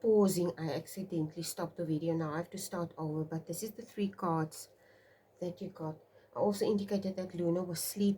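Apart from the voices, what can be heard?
No everyday noise stands out behind the speech.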